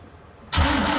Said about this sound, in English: You're going to give it a little gas, and it's going to crank up.